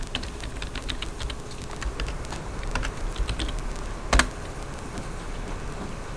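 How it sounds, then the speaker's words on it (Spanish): Steady, close typing on a computer keyboard, with soft rapid key clicks and one louder keystroke near the end, alone with no voices. "En plan pro podéis poner tecla de Windows, la R, CMD y Enter"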